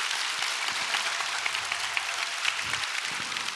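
Audience applause at the end of a public science lecture on the James Webb Space Telescope, a dense, steady clapping wash that fills the hall and carries on without talk.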